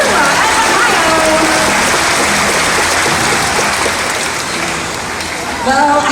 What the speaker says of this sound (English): how about a round of applause for our female killer whales, Trua and Makaio